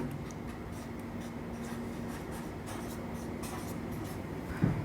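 Faint writing on a board during an English grammar lesson for competitive exams, a soft continuous scratching under steady room hiss with one small knock near the end.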